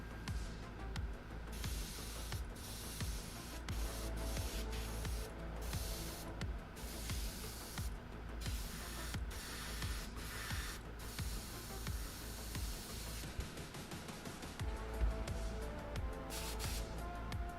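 An airbrush sprays thick paint onto a Hasegawa Ma.K SF3D Camel model kit, a steady close hiss broken by frequent short pauses and trigger releases throughout.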